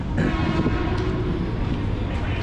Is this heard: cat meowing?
no